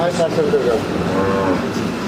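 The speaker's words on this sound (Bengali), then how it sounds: "খুব ভালো মানের গাভী" A dairy cow moos loudly and close by, one drawn-out low call that fills the whole moment.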